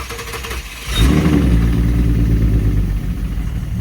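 A replaced VQ37 engine in a car cranks quietly, then catches at about one second and settles into a loud, steady, rough-sounding run with a deep low rumble, without a clear rev.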